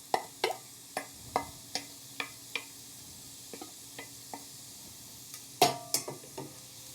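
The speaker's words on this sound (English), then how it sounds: "we are going to saute these until they're just about al dente" Carrots, diced celery and garlic being sautéed in a pot, heard as a series of sharp spoon taps and scrapes against the pot over a faint low sizzle.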